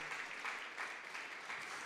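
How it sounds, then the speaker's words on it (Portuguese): A church congregation applauding during a Sunday service, a faint, even wash of clapping that sounds distant and continues steadily for a couple of seconds. "Aplauda a Deus por isso."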